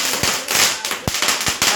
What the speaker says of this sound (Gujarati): હવે ફટાકડા ફોડશું